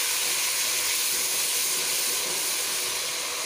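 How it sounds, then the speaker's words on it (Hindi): Water poured into a pan of browned onions sets off a loud, steady hiss and sizzle that continues unbroken throughout. "प्याज ब्राउन हो चुके हैं। अब हल्का सा पानी ऐड कर रही हूँ।"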